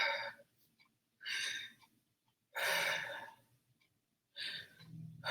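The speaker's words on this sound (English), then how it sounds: "take 3 deep abdominal breaths" Three slow, deep breaths spaced a couple of seconds apart, each a long airy inhale or exhale, close and soft with quiet pauses in between.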